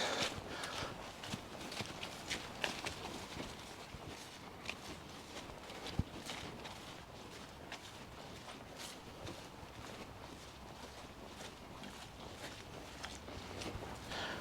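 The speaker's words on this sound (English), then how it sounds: "Some horses." Faint, steady clip-clop of hooves from horses walking, continuous and distant, with outdoor background noise and no talking.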